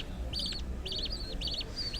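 Budgerigars kept for breeding chirp in quick, bright warbling bursts that repeat three or four times over a low steady background hum.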